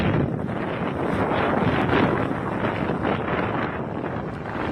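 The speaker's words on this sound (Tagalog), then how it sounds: "Ganyan kalakas ang pagbayo ng hangin sa bayan ng Sabtang na sinabayan pa ng malakas na ulan." Strong gusts from Typhoon Julian lash the town of Sabtang in Batanes along with heavy rain, a dense, loud, roaring rush of wind that swells and buffets the microphone throughout.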